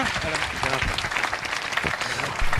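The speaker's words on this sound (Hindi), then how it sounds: "जोरदार तालियों के साथ उनका अभिनंदन और स्वागत करें।" Loud, dense applause from a large audience at a Jain religious discourse gathering in Jabalpur, sustained and even throughout with no gaps.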